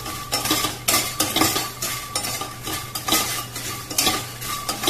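Lotus seeds and flattened rice dry roasting in a pan, stirred with a utensil that scrapes and clinks against the metal in repeated rhythmic strokes, with a faint low hum under it and no talking.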